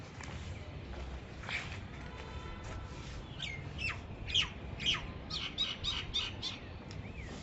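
A bird gives a run of sharp, rising squawks and chirps that builds and speeds up toward the end, fairly faint against a background hiss.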